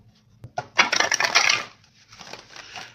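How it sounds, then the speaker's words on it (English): Tarot cards shuffled by hand in one quick burst of crisp riffling and slapping, close and fairly loud, then a softer second flurry of card rustling. "So I'm going to shuffle one more time."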